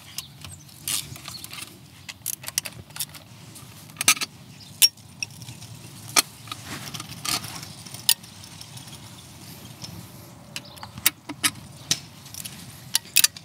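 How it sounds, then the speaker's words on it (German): Screws on a Vespa GTS 300 scooter's variator cover are loosened with hand tools, giving scattered metallic clicks, ratchet ticks and small clinks of tools and parts nearby, irregular and fairly quiet, with no talking. "Als erstes wieder mal lösen die Schrauben."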